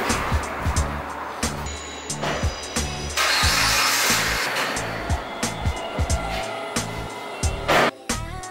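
A car rolls into an office building with a steady engine drone and rumble, broken by repeated knocks and clatters as it moves along.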